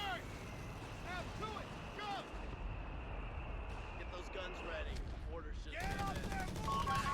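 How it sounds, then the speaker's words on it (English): Machine gun fire in Company of Heroes 3 from US forces' MG covering a retreat: rapid bursts of automatic gunfire under a voice talking throughout, with a steady battle background. "use this MG to cover my retreat"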